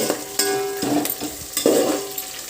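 Chopped onions fry in a pan for vegetable kichdi, sizzling steadily close up while a spoon stirs and scrapes against the pan in a few short strokes.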